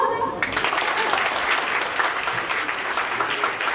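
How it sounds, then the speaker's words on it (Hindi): After a brief lull, a crowd at a Hindi poetry recital launches into loud applause, many hands clapping together in a thick, continuous roar that stays strong and near to the end. "देख रहे हो कैसे मांग के तालियां बजा रही"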